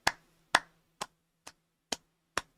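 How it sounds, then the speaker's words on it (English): Six sharp hand claps spaced about half a second apart, sounding close and alone, with a faint steady hum underneath. "I have to literally clap for that one."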